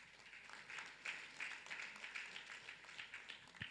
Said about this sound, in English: Can we give him one more thunderous, resounding applause?